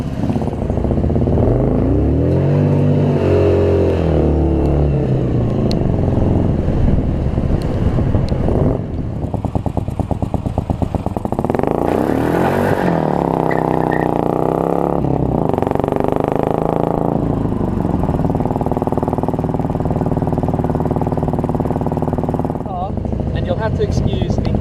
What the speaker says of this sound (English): 2-litre Harley V-twin engine